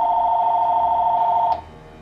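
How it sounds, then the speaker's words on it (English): A telephone rings with a steady, loud electronic trill for about a second and a half, then cuts off abruptly, leaving quiet background. "give me 1 second, my phone is ringing."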